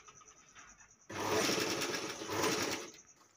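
A sewing machine stitches a border onto a quilt made from old saris, a close, loud, rapid mechanical chatter that runs steadily for about two seconds before stopping, with quiet room hum before and after.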